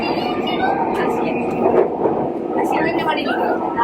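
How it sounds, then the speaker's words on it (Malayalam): The inside of a moving Kochi metro train gives a continuous rumble and hum, with people talking nearby over it. "അവിടെ നിന്നും തൃപ്പൂണിത്തുറ വരെ മെട്രോ ട്രെയിൻ യാത്ര"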